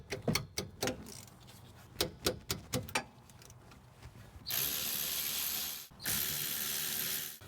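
A ratchet loosening the two 12mm rear brake caliper bolts on a 2007-2013 Acura MDX, with quick bursts of close clicking followed by a loud sustained whir.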